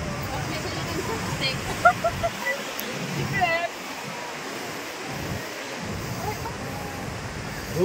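Sea waves washing in a continuous broad rush, swelling and easing over several seconds with gusty wind noise on the microphone, while voices talk over it.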